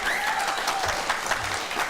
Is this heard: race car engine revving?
no